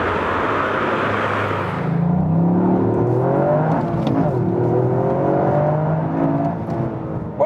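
A 2021 Toyota GR Yaris all-wheel-drive hot hatch in track mode accelerates hard on a wet track, its engine note climbing steadily through rising revs in a loud, continuous drone with road and tyre roar beneath.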